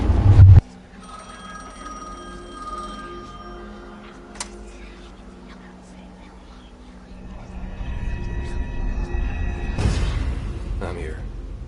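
In the horror video game The Medium, a payphone rings with a steady electronic bell tone over a quiet ambient backdrop, followed by a louder rising rumble and a whooshing swell near the end.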